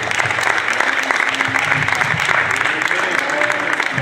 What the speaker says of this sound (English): Come on, give God a hand clap of praise.